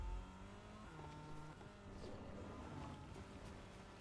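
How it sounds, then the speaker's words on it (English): A car in Fortnite Chapter 5 Season 2 drives with a steady engine drone that holds several shifting pitch lines over a continuous rushing noise. "Oh, it's a car."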